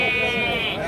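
Sheep bleating at a livestock market in Beylagan, Azerbaijan: a single sustained, wavering bleat fills the short moment, loud and close, amid background market noise.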